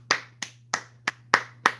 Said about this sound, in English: Applause to you people.